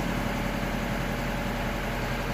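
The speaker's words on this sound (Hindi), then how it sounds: "आयर मैंने मतलब एक्सीडेंट को नहीं रखा, फिर भी ऑटोमेटिक रेस हो रहा है।" A Mahindra Bolero with an accelerator pedal fault runs on its own, the engine droning close and steady at a constant loudness with no voices.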